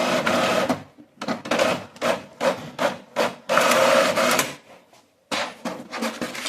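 An Epson EcoTank M2170 mono duplex printer prints a status report. Its mechanism sounds up close as a series of rhythmic mechanical bursts separated by brief pauses, with one longer gap near the end before printing resumes.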